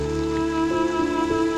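Steady rain falls continuously through a sustained musical drone, with no voices present.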